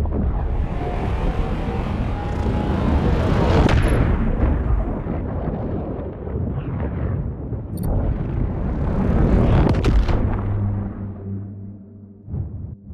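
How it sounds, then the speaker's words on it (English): Epic warp transit effect for a space game built in Unreal Engine 5: a loud, sustained roaring rumble with booming blasts and whooshing sweeps, swelling over several seconds before breaking into pulsing low thuds near the end. "He whipped up an epic warp transit sound effect"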